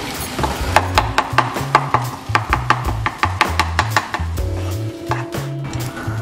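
Spatula stirring mashed eggplant bharta in a pan, producing a quick series of distinct knocks and scrapes against the metal, close and fairly loud, with a brief pause midway and no speech.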